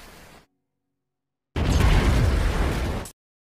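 After a brief silence, a loud, dense burst of noise roars for about a second and a half, a cartoon explosion-like blast in an anime that stops abruptly.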